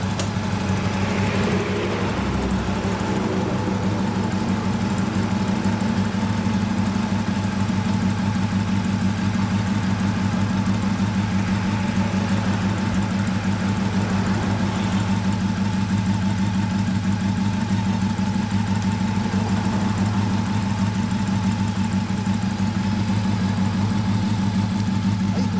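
1996 Honda CB400 Super Four Version S (NC31) motorcycle idling up close, a steady, loud low-pitched four-cylinder hum that stays even throughout, with a small blip near the start.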